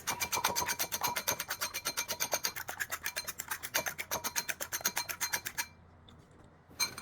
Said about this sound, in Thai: ตอกไข่ไก่ลงไปสักสองฟองนะครับ แล้วก็ตี ให้แตกให้หมดเลยครับ